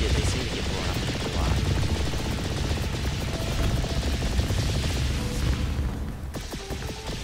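Sustained rapid gunfire and explosive booms from an airstrike in the space drone builder game Nimbatus, a loud continuous barrage that tapers off near the end.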